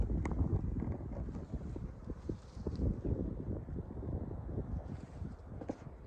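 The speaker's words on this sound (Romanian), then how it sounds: "Și vântul ăsta acum e" Steady wind roars and buffets the microphone with low rumbling gusts, continuous and fairly loud throughout, with no talking.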